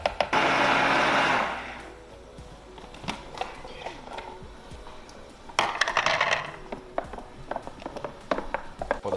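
A blender whirs loudly for about two seconds while mixing a chickpea sauce with lemon juice, then stops, leaving quieter kitchen clatter and clicks.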